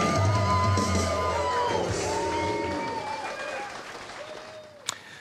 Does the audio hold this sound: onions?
no